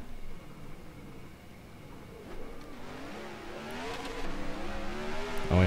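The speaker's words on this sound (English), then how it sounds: "let's see if I can do burnouts on dirt" Race car revving and spinning its tyres in a dirt burnout on a late-model oval in the NR2003 racing sim, engine note rising and wavering steadily louder over several seconds, with no talk.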